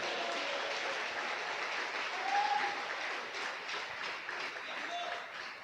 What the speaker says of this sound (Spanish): Denle las ofrendas de palmas al que vive en esta tarde.